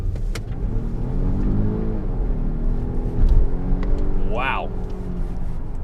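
A 2020 Volvo XC90 T8 plug-in hybrid SUV pulls away hard from a standstill in sporty drive mode, a steady engine and road roar building evenly for several seconds, with a voice briefly exclaiming over it.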